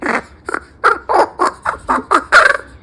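A crippled rescue crow calls close by, giving a rhythmic series of about nine harsh, throaty caws with short gaps between them.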